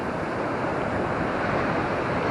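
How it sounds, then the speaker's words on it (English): Ocean surf at Gibson Steps on the Great Ocean Road rushes in a steady, broad roar of breaking waves, close and continuous with some wind buffeting, no voices. "See, the waves aren't quite as big today"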